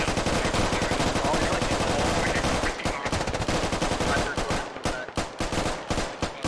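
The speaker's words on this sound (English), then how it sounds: "more fire going on over here." Heavy gunfire in the video game Squad, sustained rapid automatic bursts and overlapping shots close by, thinning into separate cracks near the end.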